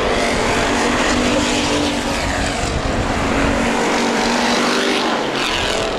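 Street stock race cars racing at Perris Auto Speedway during opening weekend: a dense, loud continuous engine roar with passing swells from several cars on track, with no talk heard.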